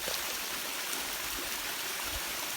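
Stream water spilling over tiered rocks at Jim Yai waterfall near Ban Khao Phluang in Phetchabun, Thailand, a soft, steady rushing and trickling that continues throughout without talk.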